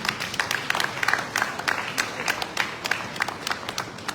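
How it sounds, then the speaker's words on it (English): Audience at an indigenous people's summit in Lagos claps for a speaker, individual claps distinct and somewhat sparse over a busy, reverberant hall at a fairly low level. "Please give him a big round of applause"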